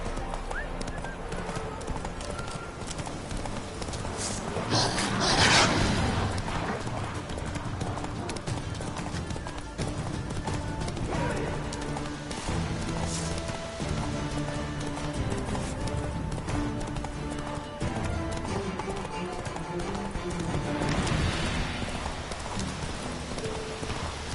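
Hooves of the horse Roach clip-clop steadily in a galloping rhythm in The Witcher 3, with a brief whinny and a faint rain-like wash in the background.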